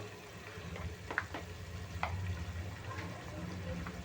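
Country chicken with black masala and chilli masala is stirred in a pan, giving a faint low sizzle with a few soft spoon scrapes and clicks, quiet and steady.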